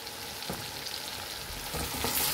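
Finely chopped tomato with salt and turmeric cooks in a pan, giving a soft, continuous sizzle with a few faint stirring scrapes, close and quiet, with no talk.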